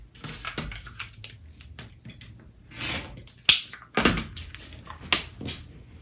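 Rotary cutter slicing quilting fabric along a ruler on a cutting mat, heard as a few sharp close scraping strokes and clicks among light handling noises, with no talking.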